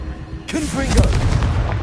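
A blasting fire spell detonates in Hogwarts Legacy, a sudden loud boom with a rumbling, crackling tail that lingers for over a second, partly overlapped by a voice.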